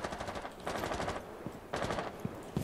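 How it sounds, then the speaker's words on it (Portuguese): Automatic gunfire in Rainbow Six Siege on PC: two loud, rapid bursts of shots, each close and sustained for about a second, separated by a brief lull, with no talking. "Eu dei um tiro mesmo aqui"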